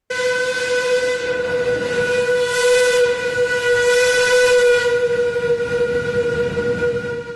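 A steam locomotive's long, steady whistle blares continuously with rich harmonic tones, loud and close, over a faint rumbling background.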